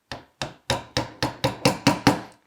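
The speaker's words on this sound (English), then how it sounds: "give it a few little tappy taps, and that'll mark my hole center" A transfer punch is tapped with a hammer to mark a drill hole center during a split-top Roubo workbench build, giving eight sharp, evenly spaced knocks that grow slightly louder and quicken a little, with no talking.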